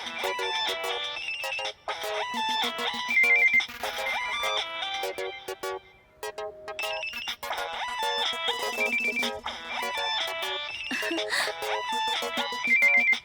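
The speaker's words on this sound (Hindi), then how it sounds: "हो सकता है नम्रता का ही फोन निकले यार" A mobile phone rings with a busy melodic ringtone in a Hindi comedy film. The tune repeats loudly and steadily for several cycles with brief gaps and no talk over it.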